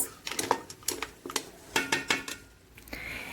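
A lid clatters onto a pot of garlic butter seafood boil with mussels, in a quick series of close metallic clinks and taps that end in a brief quiet.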